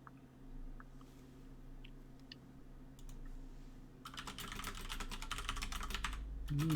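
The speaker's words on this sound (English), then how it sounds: "Typing. Secret typing." Fast, crisp keystrokes rattle on a computer keyboard in a dense burst after a few scattered taps, fairly quiet under a low background hum.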